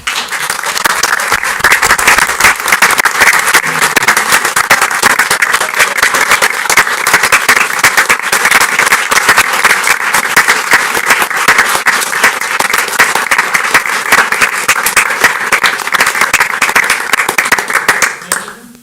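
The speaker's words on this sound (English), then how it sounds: "So I'd ask the audience if you join with me and give them a round of applause." A large audience at a city council meeting applauds continuously, dense clapping filling the room at a steady loud level before fading at the end.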